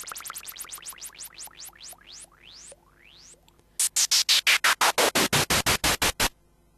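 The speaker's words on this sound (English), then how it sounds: "The noise and effect sounds are coming mainly from the MS-20, using a lot of noise sounds and LFOs." A Korg MS-20 synthesizer produces LFO-driven noise effects: a series of rising swept zaps that slow and stretch out, then a run of loud, evenly pulsing noise bursts.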